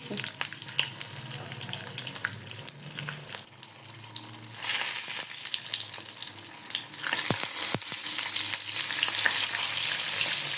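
Spicy potatoes fry in a pan with a continuous sizzle and occasional scraping stirs as they are turned; the crackle grows louder and denser partway through.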